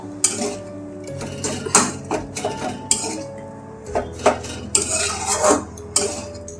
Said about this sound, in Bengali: সমস্ত মশলা দিয়ে এবার আমি মাছটাকে ভালো করে একটু ঘেঁটে দিচ্ছি, তাহলে বেশ মাখো মাখো ভাবটা হবে।